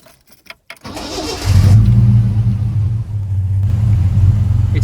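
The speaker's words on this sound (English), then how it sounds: "Right, let's start the engine." A Ford Capri 2.8 Injection cranks briefly and fires, its engine settling into a loud, steady low rumble at idle close by.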